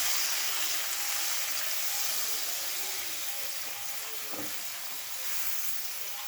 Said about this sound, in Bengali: এবার গ্যাসটাকে মিডিয়াম ফ্লেমে রেখে 2 থেকে 3 মিনিট ভেজে নেব